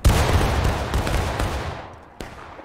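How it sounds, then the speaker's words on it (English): Musket volley fired in the Civil War game War of Rights, a loud crackling burst of many shots at once that rolls and fades, followed by a single later shot. "Take aim. They're in the bushes. Fire in the bushes."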